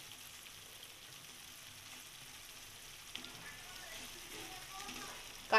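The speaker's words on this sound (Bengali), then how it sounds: "এখন আমরা মাছটা দিয়ে আরেকটু কষিয়ে নেব" Raw fish sizzles as it is added to spiced, oil-glossed masala in a pan for boal fish jhal, a soft steady frying hiss that thickens slightly toward the end, capped by a brief clatter.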